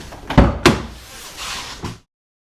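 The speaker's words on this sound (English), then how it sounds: "as I open the door from the inside" Door of a Nissan 350Z convertible worked from the inside: two sharp, close clunks of the latch and door, a softer shuffle, then a final thud before silence.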